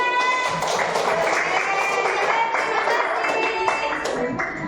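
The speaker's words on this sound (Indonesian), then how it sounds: "Wah, tepuk tangan." Classroom of Year 5 pupils applauding during a lesson, a dense steady wash of many small hands clapping at once for the full stretch, fairly loud and close, with faint voices mixed in.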